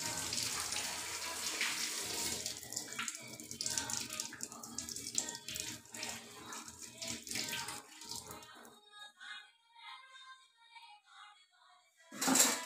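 Ginger washed under a running tap, water splashing steadily and loudly for about eight seconds before stopping, followed by quiet handling and a brief final splash; faint voices are mixed in.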